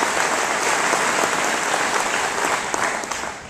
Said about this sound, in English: Let's give them a little a round of applause here too.